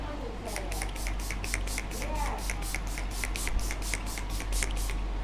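A rapid series of short bursts of Urban Decay All Nighter makeup setting spray, about a dozen quick pumps in steady rhythm, close by with some background noise.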